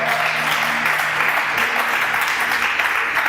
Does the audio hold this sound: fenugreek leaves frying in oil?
no